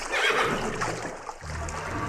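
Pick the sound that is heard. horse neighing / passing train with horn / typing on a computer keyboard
horse neighing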